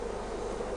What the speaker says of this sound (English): Actually, a wasp in there.